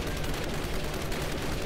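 Dense gunfire rattles in the video game Turning Point: Fall of Liberty, a steady, noisy barrage of shots that fills the whole stretch at moderate level with no pauses.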